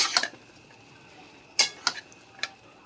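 A spoon scrapes and knocks against a pot while soybeans are stirred and fried in spices, giving a few sharp metallic clinks at irregular intervals over a quiet kitchen background.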